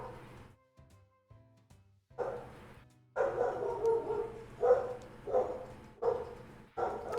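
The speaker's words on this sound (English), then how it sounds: "Of course, my dog." A dog barks repeatedly in a run of sharp yaps and bow-wows, close and fairly loud, after a few quieter whimpering sounds at the start.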